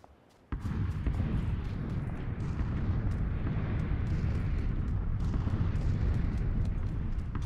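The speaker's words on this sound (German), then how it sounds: "Er hat aber eine Granate uns hintergeworfen." Grenade explosion in PUBG: after a brief quiet moment, a sudden loud blast breaks into a sustained rumbling roar with scattered crackles that lasts several seconds.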